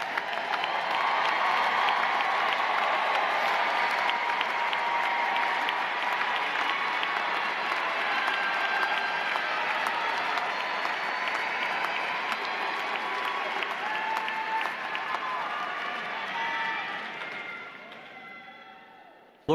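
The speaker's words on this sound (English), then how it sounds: "would you please stand so that we can applaud your academic success?" Sustained commencement applause for honors graduates standing at a university ceremony, a dense wash of clapping and cheering from a large crowd that holds steady before fading near the end.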